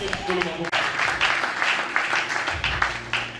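A church congregation at a Sunday service bursts into steady applause and cheering that fills the room for a few seconds, a voice rising over it near the end.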